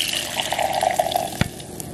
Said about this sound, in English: Then I'm gonna add about 12 ounces of warm water.